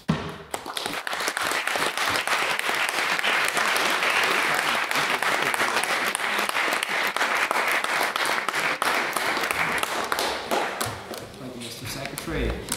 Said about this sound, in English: I think it's worth again another round of applause for all of our speakers